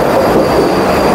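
A train rolling into Ratnagiri railway station makes a loud, steady close rumble with wheel noise and no voices.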